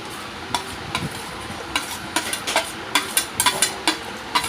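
Onion and dried coconut masala being stirred in a pan for Malvani vatap, with a steady low sizzle and repeated scraping strokes of a spatula, close and moderately loud, no voices.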